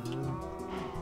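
A cow in a video game on a multiplayer server lets out one loud, drawn-out low moo that fills the whole moment, with no talking over it.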